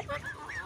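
A rooster in a backyard hen flock gives a short, nasal, honking call, close and fairly soft, two quick rising notes within under a second.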